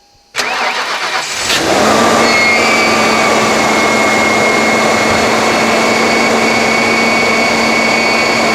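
A 1995 Ford Crown Victoria LX cranks briefly and fires up on a cold winter start, then settles into a loud, steady idle with a high whine over the engine rumble.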